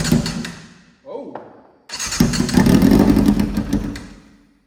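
A Yamaha 600 motorcycle engine, unstarted for three years and short of fuel after a shot of starting fluid, cranks and briefly catches in a low burble, cutting out after short attempts, close by with a voice speaking between tries.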